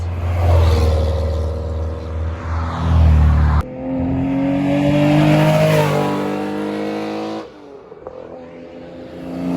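A Peugeot 308 drives past during a classic car rally in the Côte-d'Or, its engine note rising in pitch as it approaches and fading as it moves away, loud and close with no talk.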